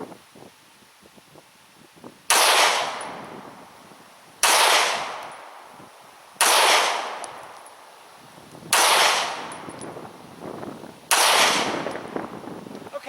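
Five loud, sharp gunshot bursts from a Browning High-Power 9mm pistol at a shooting drill, spaced about two seconds apart, each ringing out with a decaying echo over quiet outdoor background.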